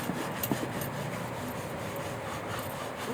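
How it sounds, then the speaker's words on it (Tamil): A seasoned clay mud pot being scrubbed while it is washed, giving a steady, close rasping rub that continues throughout, with no talk. "அதை நல்லா தேய்ச்சிட்டு நம்ம கழுவி எடுத்துக்கலாங்க."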